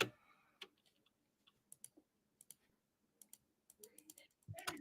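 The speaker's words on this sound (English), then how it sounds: "I can hear someone furiously clicking" Rapid, scattered clicks of a computer mouse or keyboard, small sharp ticks coming in quick irregular bursts, faint and close, with a brief louder knock near the end and no talking.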